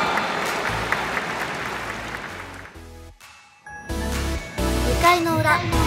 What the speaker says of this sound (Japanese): 皆さん大きな拍手をお送りください。